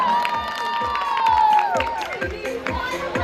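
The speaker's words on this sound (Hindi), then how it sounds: "वंस मोर जैसी परफॉर्मेंस थी तो एक बार और तालियां बजा दो" Guests at a sangeet wedding celebration cheer and shout with scattered clapping, children's excited voices rising and sliding over a lively, crowded room.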